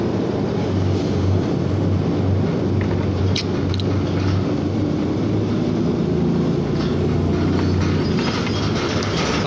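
A subway train rumbles steadily throughout, with a loud, continuous rolling roar and faint clicking of wheels on the rails. No voices are heard.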